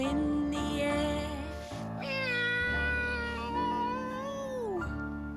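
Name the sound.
cat meowing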